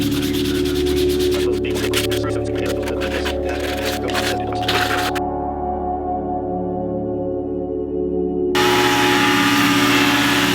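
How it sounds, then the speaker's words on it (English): Plastic body panels from a 1985 Honda Elite scooter are sanded by hand, a close, steady rubbing scratch with rapid strokes at first, then a shift to a smoother, continuous hum-like sanding sound. "to be doing some sanding"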